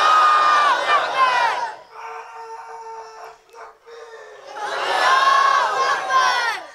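A large crowd roars a religious chant of Allahu Akbar in unison at a public speech gathering in Abbottabad. The loud massed voices sound twice, with a quieter stretch of hum and murmur between them.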